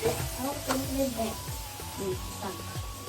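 Tomatoes fry in a pan with spices, giving a soft continuous sizzle and hiss, while someone talks over the cooking.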